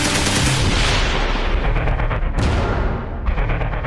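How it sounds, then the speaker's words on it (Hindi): An AK-47 rifle fires rapid, loud rattling bursts at close range, with a brief break partway through before the shooting picks up again, and no voices. "गोलियों की तड़तड़ाहट गूंजी"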